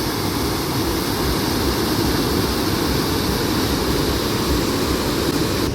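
Loud, continuous roar of water rushing out of a dam, a dense unbroken wash of noise that stays steady throughout, close and powerful.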